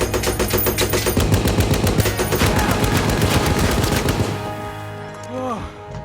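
Rapid machine-gun bursts and heavy gunfire from a World War II tank battle scene in the war film Fury, loud and sustained for several seconds before tapering off, with a low rumble underneath.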